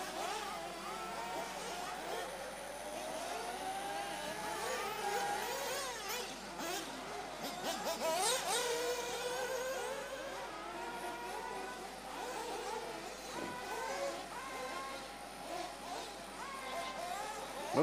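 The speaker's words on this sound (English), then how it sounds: "Somebody's car sounds like it has something slipping up there." Electric 1/8 scale RC buggies racing at a world cup finals event, one drivetrain sounding like something is slipping; a steady, loud whining mix of motors on the track, continuous throughout, with faint crowd voices underneath.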